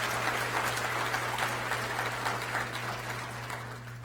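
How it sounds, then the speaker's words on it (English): Audience applause at a school district address honoring a charter academy, steady dense clapping filling the room for several seconds with a constant low electrical hum underneath. "So let's give a round of applause for Corey and Jones Academy"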